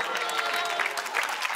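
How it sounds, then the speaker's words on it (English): Comedy show audience bursting into applause, a dense, lively clatter of many hands close up, with some crowd voices mixed in. "Don't clap for that."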